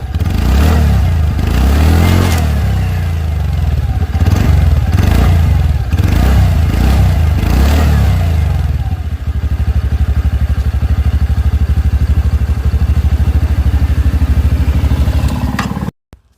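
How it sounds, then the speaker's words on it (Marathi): A TVS Ntorq 125 Race Edition scooter with a BS6 engine blips its throttle several times in loud, close exhaust revs, then settles into a steady, throbbing idle before cutting off abruptly. "आता आपण इंजिनचा साऊंड ऐकूया सायलेन्सरचा कसा येतो BS6 इंजिनचा"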